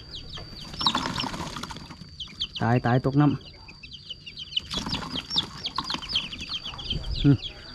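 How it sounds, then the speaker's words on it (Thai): Small chicks peep and cluck in a steady chorus of high chirps outdoors, while a person talks over them at intervals. "ไก่น้อยเราเอามาเลี้ยงทุกคน"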